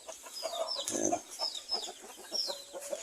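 A mother hen sits brooding on eggs about to hatch, giving soft, close clucks and chirpy calls with a few sharper bird notes, in a busy farmyard where other fowl call in the background.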